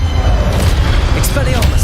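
A loud, low booming blast of the Incendio fire spell in Hogwarts Legacy, a rumbling burst that fills the clip for about two seconds with brief crackling flares near the end.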